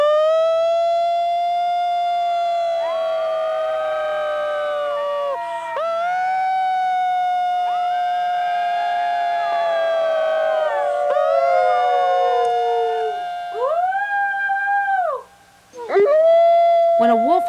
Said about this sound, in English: When a wolf howls, even in a captive pen, the wilderness comes to where you are.